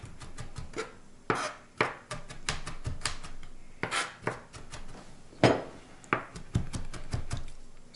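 A knife rocks up and down through garlic on a cutting board, producing a quick irregular series of close, sharp chopping taps with brief pauses between bursts.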